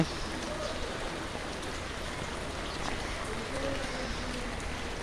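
Heavy rain pouring over flooded streets and homes in Chittagong city, a dense, steady roar of rainfall close by with no break throughout.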